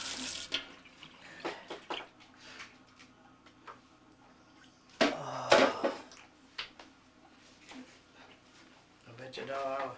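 Water runs and splashes in short bursts with a louder pour around the middle and a brief stream at the end, while a voice talks in between.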